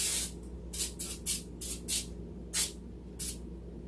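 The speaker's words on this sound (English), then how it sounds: "we have to lightly grease our pan" Cooking spray greasing a baking pan: about eight short, close hissing spurts in an irregular rhythm, alone in a quiet room.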